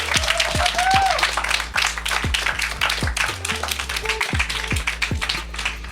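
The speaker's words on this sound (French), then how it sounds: "tonnerre d'applaudissements" Applause greets a guest introduced on a French comedy show, with a burst of claps and taps over steady broadband noise and a few tonal whistles or voices mixed in, fading as the next scene begins.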